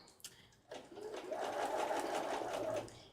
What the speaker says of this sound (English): When you're sewing curves like this, you're going to want to take a lot of breaks.